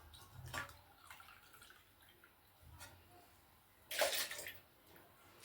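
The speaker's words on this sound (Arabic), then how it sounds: "هنايا نديرو الحليب" Milk is poured into cake batter in a few faint, brief liquid splashes and trickles, the last one a little louder, against a quiet kitchen background.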